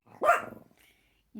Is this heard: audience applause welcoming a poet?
no